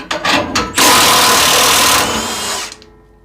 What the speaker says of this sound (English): You come down here to these two nuts right here, and you unscrew them.